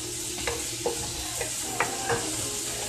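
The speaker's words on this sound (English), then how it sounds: "just sauteing this down to get all the flavors out of these vegetables" Vegetables sautéing in a big pot before kale goes in, a steady sizzle with several sharp stirring scrapes and clinks of a utensil against the pot, close and alone without voices.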